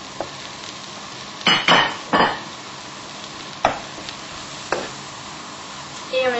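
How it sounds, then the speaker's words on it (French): Sliced fresh mushrooms tipped into melted butter in a pan, giving a steady soft sizzle with a few louder stirring scrapes and clinks of a utensil against the pan, close by. "poêle pour faire revenir les champignons avec un petit peu de beurre"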